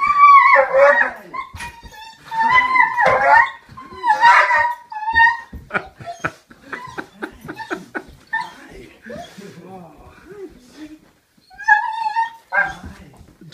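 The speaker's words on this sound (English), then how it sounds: "Let's see how our dog Mystic reacts" A dog greeting its returning owner whimpers, yips and barks excitedly in repeated loud bursts, mixed with high whines, while people talk over it at close range.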